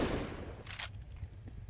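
Gunfire in Counter-Strike (CS:GO) during a professional Astralis vs BiG match on Anubis, a short loud burst of shots over steady game noise, without talk.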